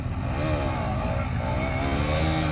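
A KTM Duke 200 motorcycle engine drones loud and close during wheelie practice, its pitch rising and dipping with throttle changes in a continuous buzzing rev.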